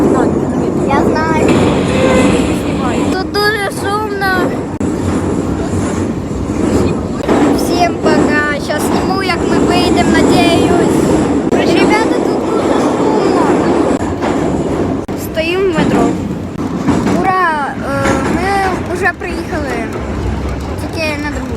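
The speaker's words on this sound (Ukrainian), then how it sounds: "Тепер ми в метро. Ну, коротше, ми вже в метро. Тут дуже шумно." A subway train rumbles and clatters loudly through a deep metro tunnel, with a constant roar and rhythmic rail noise, and people talking beneath it.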